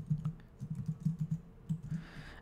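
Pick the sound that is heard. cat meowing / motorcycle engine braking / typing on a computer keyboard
typing on a computer keyboard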